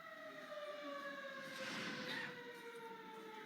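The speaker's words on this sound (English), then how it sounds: "these sirens began to go off here in Bibb County" Faint, steady tornado warning sirens wail in the distance in Bibb County, holding long sustained tones over a quiet background, with no voices.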